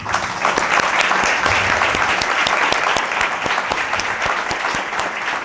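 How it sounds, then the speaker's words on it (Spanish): Audience at a talk by Carlos del Amor at Benituzem 2025 applauding steadily, a dense wash of many hands clapping at even loudness throughout with no talk over it. "un aplauso para todos vosotros"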